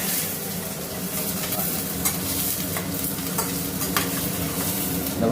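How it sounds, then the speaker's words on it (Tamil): Onions sautéing in hot oil in a pan for chicken chinthamani, a steady, close sizzle with soft scraping stirs running throughout. "நம்ம இப்போ இந்த ஆனியனை போட்டுடலாம். ஆனியனை போட்டு வதக்கி விடலாம்."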